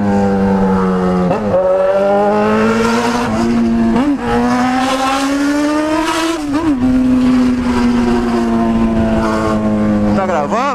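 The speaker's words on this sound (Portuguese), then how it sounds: "A motinha berra que nem um diabo." Remapped Yamaha XJ6 motorcycle engine revving hard and loud close by, rising and falling in repeated surges with sharp blips between pulls, with no talking.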